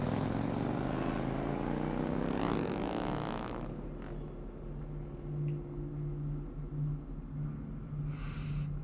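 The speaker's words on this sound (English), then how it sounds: "I start the engine and twist the device in my hand." An engine starting up in the video game Love and Deepspace, a steady low droning hum with tonal bands that settles into a continuous rumble after a brief rising burst, moderately loud and without talk.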